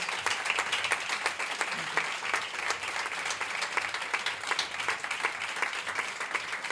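Steady, dense applause from an audience honoring footballer Alexia Putellas, with many sharp individual claps standing out in a sustained, moderately loud wash of clapping.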